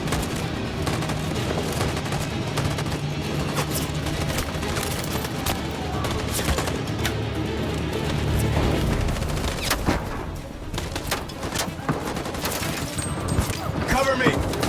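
Constant gunfire in Detroit: Become Human while android troops lay down covering fire in a street battle, with dense, loud volleys and booms that run without a break and voices talking over them.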